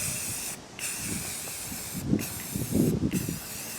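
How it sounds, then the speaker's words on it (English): Spray paint hisses in three bursts onto metal mason jar rings being coated orange, each burst steady and close with short gaps between. "I'm just going to make sure that they all have a really good coat of paint on them."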